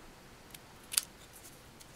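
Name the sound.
cutting paper strip with small scissors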